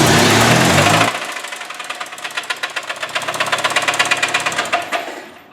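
A 1999 Mazda B2500 pickup engine, started after sitting unused for half a year, cranks loudly, then runs rough with a rapid, rhythmic metallic knocking ticking close by.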